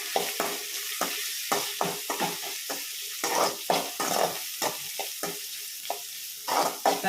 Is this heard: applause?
no